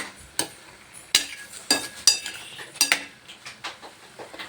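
A spoon stirs pineapple sweet curry with rock salt in a pan, giving sharp clinks and scrapes against the metal at irregular intervals, close and fairly loud over a faint simmer.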